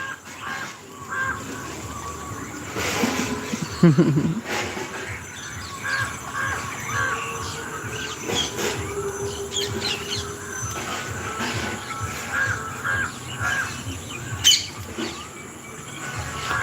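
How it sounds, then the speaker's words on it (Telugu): A flock of parrots chatters and squawks in a guava tree, the harsh, raspy calls overlapping continuously at moderate distance, with one louder burst partway through. "సంగీతంలా ఉన్నాయి వీటి సవ్వడి మీకు వినిపిస్తున్నాయో లేదో కానీ"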